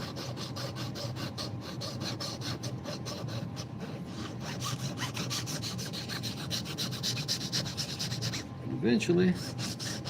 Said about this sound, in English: Just gonna keep filing around that, making that dowel smaller and smaller as we go.